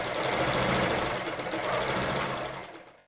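A sewing machine runs steadily, stitching the hem of an apron made from an old nighty. The loud, continuous whirring and rhythmic needle clatter sound up close, then stop abruptly at the end.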